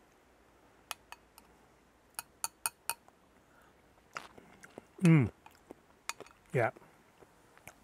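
Cucumber raita being tasted, with soft clinks of a spoon against a bowl, a few crunchy bites and chewing sounds up close, and a brief spoken word in between.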